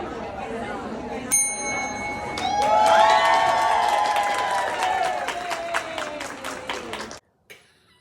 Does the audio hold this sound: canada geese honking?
no